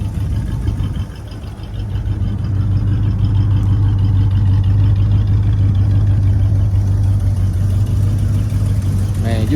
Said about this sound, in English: man, you can hear that exhaust leak